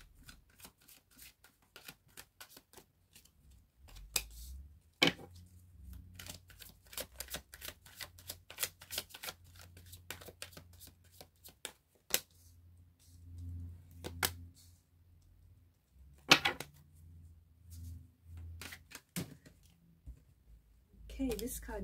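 Tarot cards shuffle in crisp, irregular riffles and taps, fairly quiet and close, with soft shuffling continuing throughout and a few sharper snaps, while a voice talks at times.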